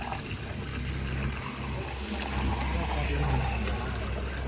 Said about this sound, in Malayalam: ഇവിടെ വെള്ളം ഇങ്ങനെ ഫിൽ ചെയ്തോണ്ടിരിക്കാണ് കേട്ടോ.